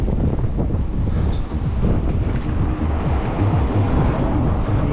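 Steady, loud wind rushes and buffets the microphone on an electric bike ridden along the coast near Yalta in cold February weather, with a continuous low roar and no voices.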